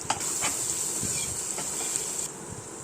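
Onion softening in hot oil with turmeric and salt gives a steady bright hiss, and a spoon stirs it with a few soft scrapes spread through the sizzle. No voices are heard.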